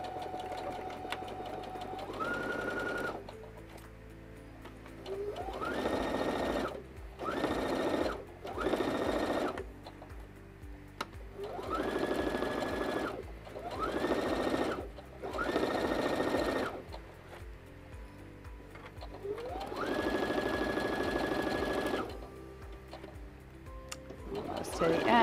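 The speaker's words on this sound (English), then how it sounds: "Get my project underneath the presser foot, line up the guide with the edge of my fabric, and I get a perfect 1/4-inch seam every single time." Sewing machine stitching a quarter-inch seam along fabric for a kitchen towel border, running in repeated short bursts of rapid whirring with brief pauses between, close and clear, no talking.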